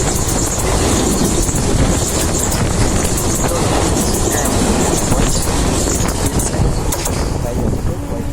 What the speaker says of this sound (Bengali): ওই দেখা যায় ট্রেন।